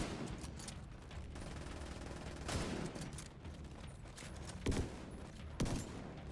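Gunfire in The Division video game: rapid bursts of shots rattle continuously, with a few sharper louder reports standing out near the end, heard fairly quietly at a distance with no talk.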